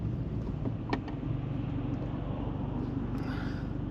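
Inside a 2-litre BMW 320i with its muffler deleted, a low steady engine and exhaust drone rumbles beneath road and wind noise, moderately loud with no talk.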